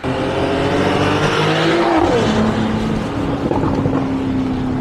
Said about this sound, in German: Jetzt machen wir noch einen Beschleunigungstest, damit ihr das Auto mal hört.